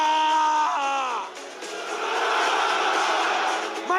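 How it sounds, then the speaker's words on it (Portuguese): A live audience at a stage talk shouts and screams on request, a loud sustained roar of many voices that swells after a brief raised voice at the start and holds for several seconds. "Cadê o grito de vocês?"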